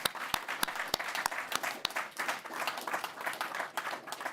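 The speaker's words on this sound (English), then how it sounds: "A big final round of applause, please, to all of our speakers." Scattered, fairly close clapping from a conference audience applauding the speakers at the end of a charity and government panel session, with sharp individual claps over a steady patter, fading slightly toward the end.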